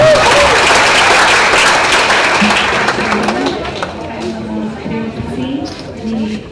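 An audience at a general lecture during a congress bursts into applause, loud dense clapping that fades after a few seconds as a voice starts speaking over the dwindling claps.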